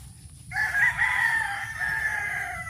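A rooster crows loudly and close by, one sustained call starting after a brief quiet moment and holding for over two seconds over a low background rumble.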